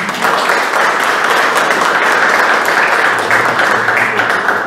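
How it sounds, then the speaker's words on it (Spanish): An audience at a book presentation gives loud, sustained applause, dense even clapping close by that carries through the whole stretch with no talk. "Pido a la audiencia le brindemos un fuerte aplauso"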